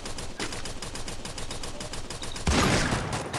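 Rapid bursts of game gunfire crackle continuously, a dense rattle of repeated shots that grows louder in the last second.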